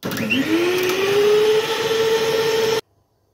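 A steady electric mixer whisks cake batter for nearly three seconds, its motor pitch rising slightly as it spins up, then cuts off abruptly into silence.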